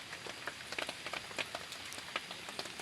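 Rain falls at a forest campsite, a faint patter of scattered drops tapping on surfaces, irregular and soft throughout.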